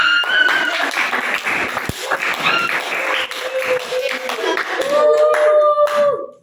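Classmates clap for a group presentation in a high school biology lesson. The clapping is loud and close, with voices talking over it.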